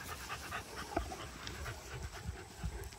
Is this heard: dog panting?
yes